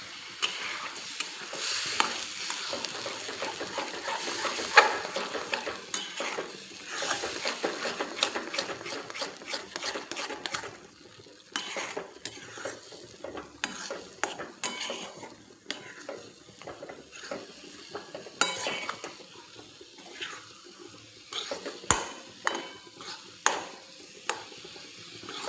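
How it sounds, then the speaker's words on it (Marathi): Semolina sheera being stirred with milk in a pan: steady scraping and stirring strokes over a soft sizzle, close and continuous, with occasional sharper knocks of the spoon against the pan. "आता आपण याला छान असं मिक्स करून घेऊया."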